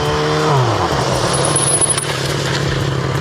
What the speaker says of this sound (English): We're going to get up to about 25 miles an hour and come to a complete stop with only the rear brake.